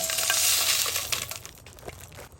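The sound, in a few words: raw spices being stirred and roasted in a hot pan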